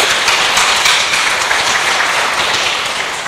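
A church congregation claps in thanks to God, a loud, dense burst of applause from many hands that holds steady with no talking, then eases slightly at the end.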